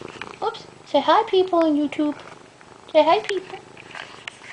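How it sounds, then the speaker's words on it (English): A pet cat purring, a soft low rumble heard faintly beneath a person's close chatty speech throughout. "You can hear him purring."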